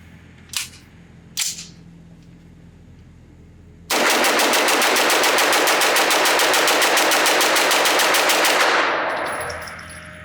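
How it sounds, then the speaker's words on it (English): A Noveske N81 rifle fires rapidly through a magazine at a range. Two single shots come first, then a long, loud, unbroken string of very fast close shots lasting about five seconds that tapers off at the end. "I just want to shoot it as fast as I possibly can"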